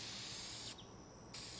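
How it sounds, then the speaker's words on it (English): Deft spray lacquer is sprayed onto a wooden jewelry box, a steady close hiss running continuously with a brief change in tone partway through, and no voices. "so for the finish, I'm using Deft Spray Lacquer"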